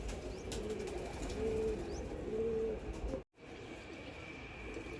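Pigeons cooing softly in low, repeated coos over a constant background hum, with a brief moment of near silence partway through.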